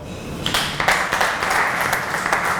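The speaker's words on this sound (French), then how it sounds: "de l'applaudir bien fort" Applause in the kitchens of a hotel school in Illkirch as the head of the school is welcomed: scattered claps build into steady, fairly close clapping from a modest group.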